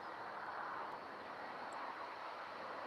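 An airliner jet engine runs at East Midlands Airport as a steady, broad roar, heard at a distance with no voices over it.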